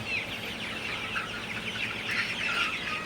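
Forty-seven-day-old Sonali super hybrid chickens cluck and chatter together in the early morning, a dense, continuous overlapping flock noise at moderate level with no pauses and no one speaking.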